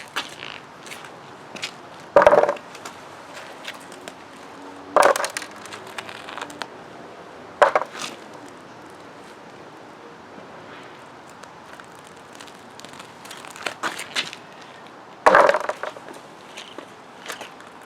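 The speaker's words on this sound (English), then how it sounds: "so now I take off all the sealant, the rubber sealant, and have a gap" Rubber sealant peeled out of a concrete expansion joint in a patio slab: sparse, sharp creaking and tearing bursts every few seconds against a quiet outdoor background.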